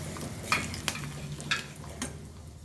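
Whole cardamom, cinnamon, bay leaves and cloves sizzle faintly in caramelized oil and sugar for a paneer dish, with a few sharp clinks of a utensil stirring the pan.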